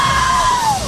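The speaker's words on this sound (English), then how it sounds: "I think that was a scream of relief." Women's college basketball players let out a scream of relief after winning the 2010 NCAA final, a single loud, sustained yell that slides downward in pitch over a faint crowd.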